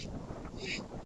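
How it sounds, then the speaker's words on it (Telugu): Strong wind buffets a microphone outdoors during open-air cooking in Lingapalli, a steady low roar that runs throughout before cutting off abruptly at the end; no one speaks. "గాలి అయితే ఎక్కువ ఉంది ఈరోజు."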